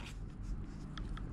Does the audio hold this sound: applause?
no